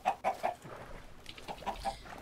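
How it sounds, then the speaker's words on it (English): Minecraft chickens cluck in a handful of short, clear calls, several quick clucks up front and a few more after a brief pause, fairly close over faint background. "Chickens laying eggs at random in the water."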